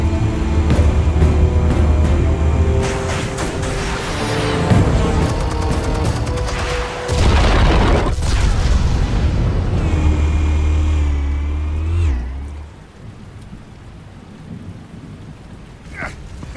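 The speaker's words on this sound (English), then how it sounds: "Explosives armed. Fire when ready." Explosives go off in Batman: The Telltale Series, a loud rolling, rumbling blast with crackling debris that holds for several seconds before cutting away to quieter ambience and a faint late clank.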